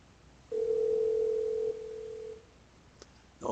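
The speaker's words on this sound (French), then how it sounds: "On peut entendre la sonnerie." A single steady ringing tone on a phone line, calling a weather service, sounds for about two seconds, then fades, followed by a faint click.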